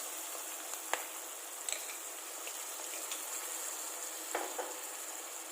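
Vegetables for veg Manchurian fry in a pan with dark soy sauce, chili sauce and tomato ketchup. A faint, even hiss carries a few soft clicks and scrapes of stirring.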